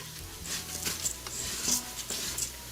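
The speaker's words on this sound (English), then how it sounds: "now we're just gonna wait here and stir it occasionally while it creates a nice little browning effect" Rice browning in oil in an Instant Pot for Mexican red rice, stirred with a utensil: soft scraping and light clinks against the pot in irregular strokes, close and fairly quiet over a steady low sizzle.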